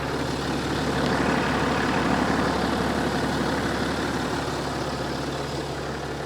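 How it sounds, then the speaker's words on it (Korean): A diesel car engine in good condition idles steadily nearby, a low even rumble with a faint clattering texture, holding constant throughout. "오늘 차량 엔진 사운드부터 한번 들려봐 드리도록 하겠습니다"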